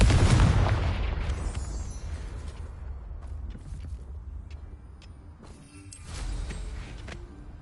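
A Confringo blast spell goes off in Hogwarts Legacy, a loud booming burst at the start that rumbles and fades, followed by softer creaks and clatter and a second swell of noise near the end.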